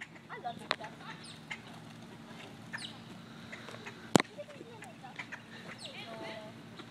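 Hungry birds, likely ducks, squabble over thrown food, giving scattered quacks and squawks against a steady outdoor background, with one sharp loud snap partway through and faint voices around.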